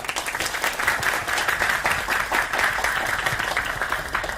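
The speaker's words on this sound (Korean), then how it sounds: "큰 박수 부탁드립니다" An audience at a student forum gives a big round of applause as a university student council leader is introduced, sustained clapping from many hands at fairly close range.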